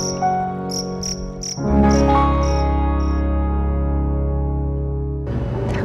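Crickets chirping close by, with a few short, sharp bursts of high trilling at the start, then a denser overlapping chorus of insect calls over a steady background hum.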